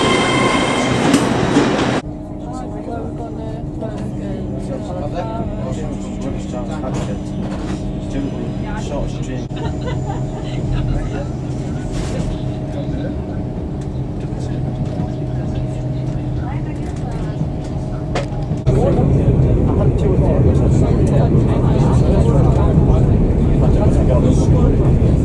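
A TransPennine Express train, unit 802213, runs toward Thirsk with a steady hum and rumble heard from on board, a voice talking over it, then the noise grows louder near the end.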